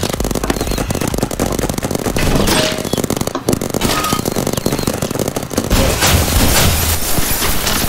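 A semi-automatic gun fires in a multiplayer shooter video game, a loud dense stream of rapid shots with brief pauses, close and continuous for the whole stretch.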